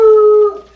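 An excited dog lets out one loud, close howl that holds a steady pitch and then trails off into a softer whine.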